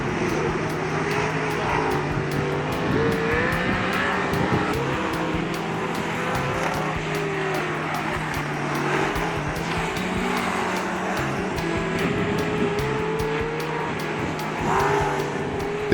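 Modified race cars lapping at Waikaraka Park Speedway during a Grand Prix heat, a continuous dense roar of engines from several cars together, rising and falling steadily as they circle the track, with no gaps.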